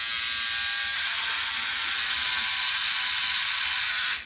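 A Philips OneBlade electric razor shaving facial hair upward against the grain, a steady close buzzing hum with a bright raspy cutting texture that runs without pause before stopping abruptly.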